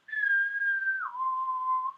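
One person whistles a clean, steady note, then slides down to a lower held tone, close and clear with nothing behind it.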